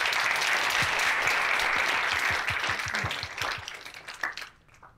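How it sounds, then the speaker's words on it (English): An audience applauds a panel at a technology event, a loud burst of clapping that holds for a couple of seconds, then thins into scattered individual claps before fading out. "Can we have a round of applause for the panel?"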